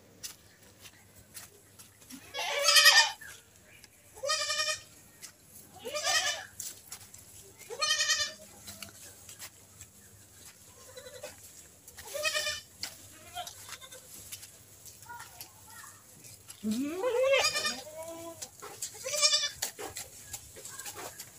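Several goats kept at a rural home, tied in woodland behind the house, bleat one after another: about eight distinct, wavering calls spaced a few seconds apart against quiet outdoor background, fairly close by.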